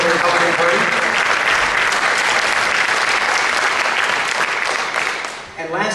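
Sustained audience applause for panelists at a Republican Party governors debate in Chanhassen, steady and dense throughout, then tapering off near the end.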